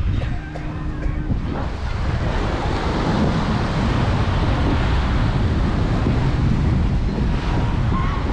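Choppy sea waves wash continuously onto Negombo beach in Sri Lanka under an overcast sky, a loud, steady surf roar mixed with wind buffeting the microphone, with no voices.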